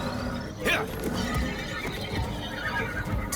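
A horse in the video game Warframe gives a loud whinny, with clip-clop hoofbeats and steady game ambience continuing beneath it.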